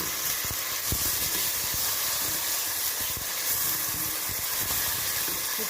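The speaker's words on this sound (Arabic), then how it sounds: "تتشوح كده مع بعض" Tomatoes and tomato paste with carrots sizzle and sauté in a hot pan for an Egyptian-style Saudi kabsa, a loud, steady frying hiss with occasional crackles throughout.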